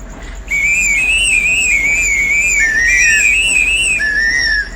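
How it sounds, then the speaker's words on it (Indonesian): A whistle-like air sound tied to the brake pedal of a Hino 500 truck: one steady, shrill tone that wavers up and down and steps lower a few times over several seconds, close and alone. "untuk suara pedal remnya ini seperti suara peluit ya cuy"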